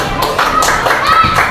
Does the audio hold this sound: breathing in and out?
no